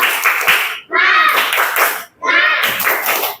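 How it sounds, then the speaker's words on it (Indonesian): A school class claps in unison during a lesson, in three rhythmic bursts separated by short pauses. Children's voices chant loudly along with the claps. "Langsung tepuk 3."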